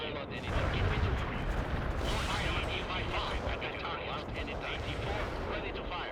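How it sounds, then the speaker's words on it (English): Artillery strikes rain down in the strategy game World in Conflict, a dense continuous rumble of distant blasts and gunfire rolling under a steady battlefield din. "Here, have some artillery strikes"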